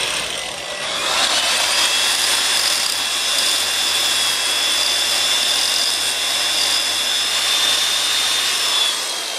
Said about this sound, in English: So, now you just grind this down.